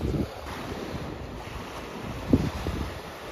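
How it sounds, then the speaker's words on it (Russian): Sea waves wash onto a sandy Black Sea beach in Odesa on a mild winter day, a steady close surf wash with wind buffeting the microphone and one brief louder splash near the end. "Шум волны вам в ленту."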